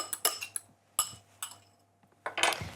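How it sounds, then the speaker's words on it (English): A fork beating a single egg in a bowl for an egg wash: a run of light, irregular clinks and taps of metal against the bowl, close and fairly quiet, with brief pauses between bursts. "I'll just grab a fork, give that a really good whisk"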